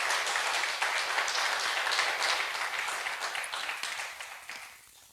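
A church congregation at a Thursday evening service claps strongly, dense steady applause that gradually thins and fades toward the end.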